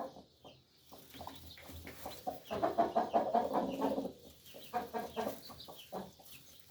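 Chickens and day-old chicks cluck and peep close by in a small coop, with a busier run of rhythmic clucking in the middle and softer calls around it.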